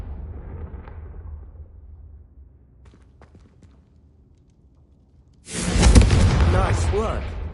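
A Confringo spell in a Harry Potter video game goes off as a single loud, close blast that follows a quieter stretch of speech and low rumble, then rolls on with a crackling tail.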